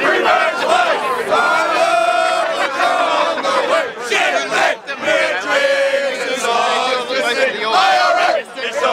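A large rugby stadium crowd sings and chants loudly in unison, a sustained roar of many voices carrying a melody throughout.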